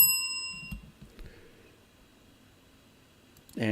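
A single bright bell ding rings out clearly at the start, its tone lingering briefly, followed by quiet faint rustling and a low thump near the end.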